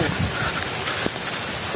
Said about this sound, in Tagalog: inaabot tayo ng ulan.